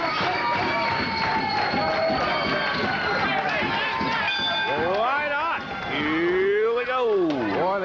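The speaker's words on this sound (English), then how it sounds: "They got the crowd going." A wrestling crowd roars and cheers loudly throughout a one-fall match in Memphis. The noise is dense and sustained, with whistles and rising yells cutting through the steady din.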